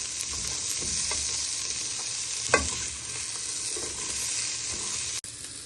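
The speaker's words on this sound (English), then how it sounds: "Just for a few minutes frying." Meatballs and vegetables sizzle and fry steadily in a pan for a meatball and vegetable casserole, a continuous close hiss with a few faint clinks of stirring and no talk.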